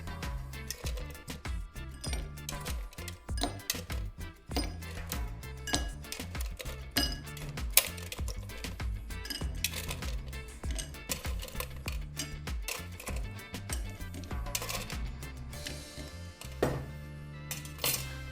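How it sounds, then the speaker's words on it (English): Ice cubes clink and rattle into a highball glass as a green Caribbean cocktail is prepared, with repeated small clatters under steady background music. "Now we need a highball glass, fill it with ice."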